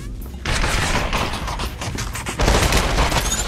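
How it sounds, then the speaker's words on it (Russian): Rapid machine gun fire in the VR shooter Population One, dense bursts of shots rattling steadily throughout, loud and close. "Я к нему иду пулеметом."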